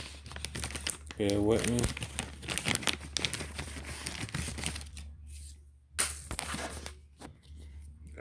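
Plastic packaging around a Mishimoto low-temperature racing thermostat is cut and crinkled open, crisp crackling and tearing bursts close by, with someone talking intermittently over it.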